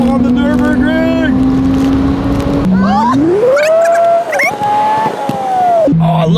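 A car on the Nurburgring revs loud and close, its engine pitch holding, then climbing through the gears and dropping sharply on lifts, with wind and speech-like noise mixed in.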